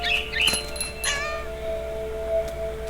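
A cat meows in the video game What Remains of Edith Finch: two or three loud, close, rising-and-falling calls in the first second and a half, fading into a quiet hum with one faint later cry.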